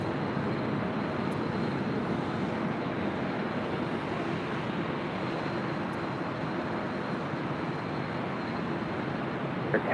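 A Southwest Boeing 737-700 airliner at LAX produces a steady, broad jet-engine roar that holds evenly at a distance for the whole stretch, with no voices over it.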